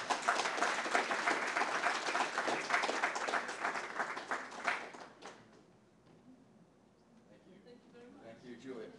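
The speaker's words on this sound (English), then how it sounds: "One more round of applause" An audience claps loudly and continuously for about five seconds at a history festival event, then the applause tapers off into quiet murmuring.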